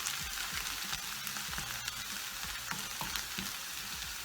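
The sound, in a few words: onions frying in pan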